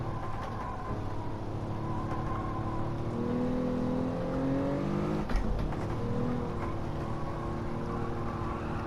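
A car engine in the racing video game Gran Turismo 7 running through gear changes, steady engine drone with pitch rising and dropping as it shifts and downshifts, one brief bump midway, no voices.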